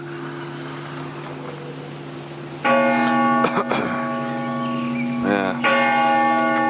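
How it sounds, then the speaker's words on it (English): Church bells ring out at a mountain alm near Salzburg, a steady layered peal of clanging tones that swells in and carries on loudly, with a brief spoken word over it. "Got the church bells going"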